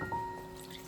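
Water poured into a pan of two cups of sugar for syrup: a short, soft liquid pour with a faint trickle, close and quiet, no talk.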